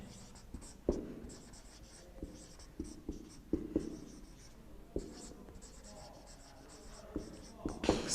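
Black ink marker scratches across a classroom board in short, faint strokes and taps, close by, with quiet gaps between the marks.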